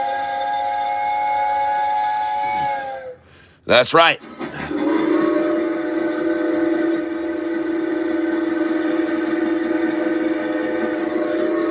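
A steam train whistle sounds in a long, sustained chord, cuts off abruptly, then gives way to a steady drone with rumbling noise of the passing train; a voice speaks briefly.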